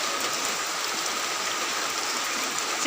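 Steady rain falls in an even, dense hiss with no pauses, close and moderately loud throughout.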